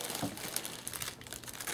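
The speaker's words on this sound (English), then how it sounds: "Get a knife. Start cutting this tape" A knife slices through packing tape on the cardboard box of a Piper Cub model airplane, giving close, continuous crinkling and scratchy tearing with small irregular clicks and no voices.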